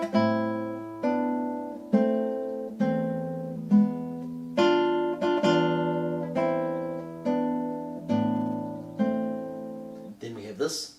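Solo classical guitar playing the opening of Fernando Sor's Etude No. 3, Op. 35: a steady series of about eleven plucked chords, each ringing and fading before the next, close and clear, with a short string scrape at the end.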